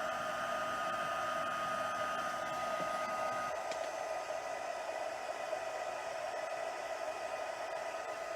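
An embossing heat tool blowing on card: a steady, loud hair-dryer-like whoosh with a constant motor whine, running without a break throughout.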